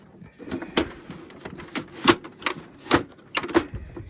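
Close plastic clicks, taps and scraping as a pickup roller is handled and pushed back into a Samsung M2070 printer, irregular bursts of small mechanical knocks.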